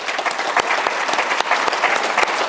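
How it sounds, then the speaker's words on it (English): A conference audience breaks into dense, steady applause, with many hands clapping at once filling the room at a strong, even level, and no voices over it. "give them a nice round of applause"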